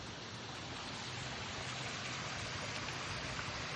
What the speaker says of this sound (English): then the pump is back on. Filter is running now.